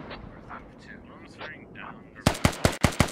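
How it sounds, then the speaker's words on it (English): Five rapid, loud gunshots crack in quick succession in the Squad military shooter, following a stretch of softer voices and background game noise. "They hear shots."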